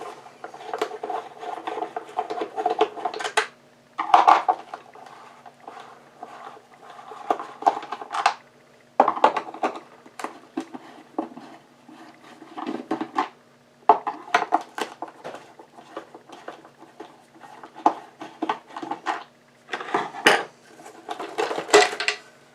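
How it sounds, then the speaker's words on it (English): Phillips screwdriver backing five screws out of the bottom plate of an Oreck XL upright vacuum, giving bursts of scraping, clicking metal-on-plastic handling that start and stop through the clip, close by and moderately loud. "So you start by using the Phillips screwdriver to remove the bottom plate."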